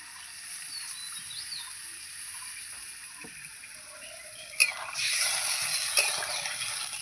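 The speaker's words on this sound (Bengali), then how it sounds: "এবার আমি এর মধ্যে জল দিয়ে দেবো" Water poured into a pan of frying fish curry with potatoes, a soft sizzle rising into a brighter hissing splash near the end, close, over a low steady kitchen background.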